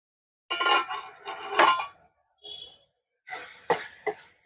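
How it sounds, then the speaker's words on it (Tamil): Tomatoes mashed with a ladle in a pot for egg curry: a few close bursts of scraping and metal clatter against the pot, separated by short pauses, with no talking. "தக்காளி வந்து இப்படி கரண்டியில் வந்து மசிச்சு விட்டிங்கன்னா சீக்கிரமாக நல்லா வதங்கிடும்"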